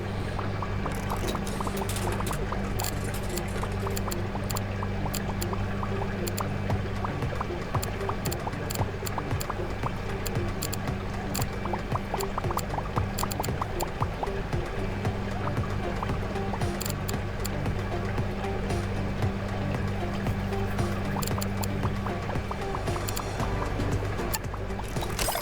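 Salt water steadily pours and gurgles into an aquarium tank in the aquarium-building game Megaquarium, a continuous splashing fill with no voices.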